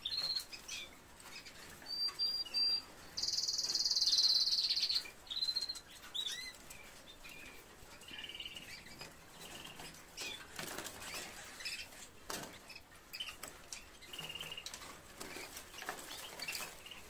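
Caged canaries flutter nervously, with bursts of wing flapping and scuffling close by, a few high chirps near the start, then softer intermittent rustling.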